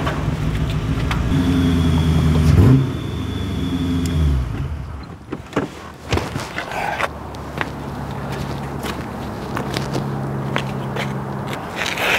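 A car, a classic Corvette, rolls around to the back through an alley, its engine humming close and loud before easing off, followed by scattered scrapes, clicks and footsteps.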